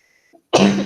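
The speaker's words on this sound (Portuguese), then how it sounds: "tô com uma tossinha aqui" A single sharp cough bursts out close and loud after a brief soft throat sound, from a teacher during a workplace safety and hygiene lesson.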